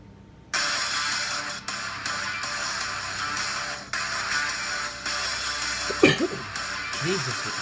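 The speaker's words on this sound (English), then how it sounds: "we're not even going to take out the coughing" Coughing fits break out near the end, a few rough bursts standing out over a steady noisy background with faint talk.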